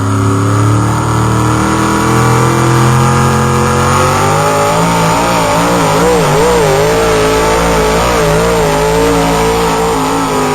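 A modified pulling truck at an airport truck pull strains under load, its engine roaring loud and continuous with wavering pitch as it drives down the track, close and overwhelming with no voices.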